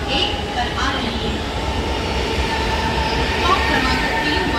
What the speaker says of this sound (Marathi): 4:54 की कल्याण जाने वाली धीमी लोकल थोड़े ही समय में प्लॅटफॉर्म क्रमांक 1 पर आ रही है